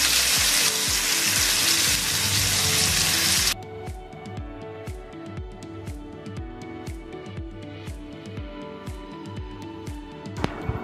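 Tomatoes frying in a pan for an eggplant curry, a dense loud sizzle for the first few seconds that settles into a quieter, steady crackle with scattered pops and clinks.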